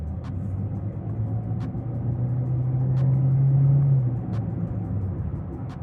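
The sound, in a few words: Chevrolet Spark LTZ 1.4L CVT car accelerating hard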